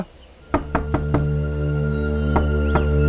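Knocking on a door in a Hindi-dubbed South Indian action film scene: four quick raps, a pause, then two more, loud and close over a steady musical drone.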